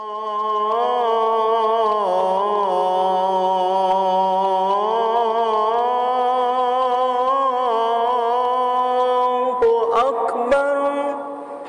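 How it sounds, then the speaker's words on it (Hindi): An Islamic call to prayer (azan) is sung by a single voice in long, sustained melodic phrases that rise and fall. It is loud and continuous throughout, with a brief disturbance near the end. "ये आवाज अजान की आवाज है।"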